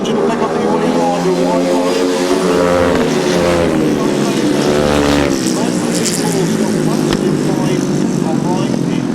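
Grasstrack racing motorcycles in the afternoon's heat 4 roar loudly around the track, their engine pitch rising and falling as they pass, while a commentator talks over them.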